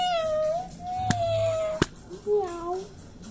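A pet cat meows close by, giving two drawn-out meows followed by a shorter rising one, with a couple of sharp knocks in between and a faint room hum underneath.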